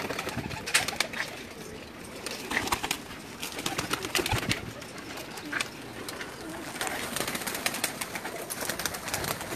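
Pakistani pigeons coo in a rooftop loft in Jeddah, Saudi Arabia, with repeated soft, throaty calls from several nearby birds amid light rustling and background noise.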